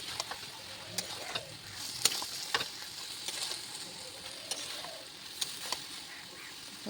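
Potatoes being sautéed in a home kitchen pan give a soft, steady sizzle with intermittent scraping and clinking of a spatula stirring against the pan, fairly quiet and close.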